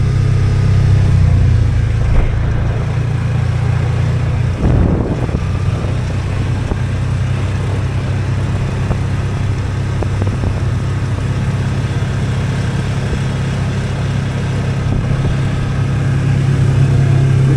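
A Polaris Ranger 570 UTV drives along an offroad trail, its mid-pitched engine droning steadily and loudly throughout with small shifts in revs and no talk.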